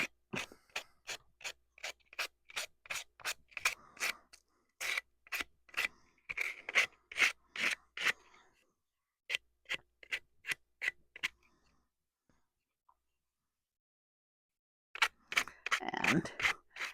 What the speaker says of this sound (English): because you're using sandpaper, you can really get into those little edges in there